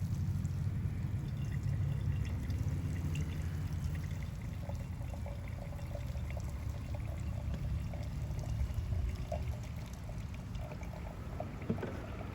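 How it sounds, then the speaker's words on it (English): Simulated rain splashes onto a soil box with living plant cover, making a steady, soft pouring hiss with scattered drips. It continues evenly throughout at low volume, with no talking. "Now we're going to rain on the box with the living cover."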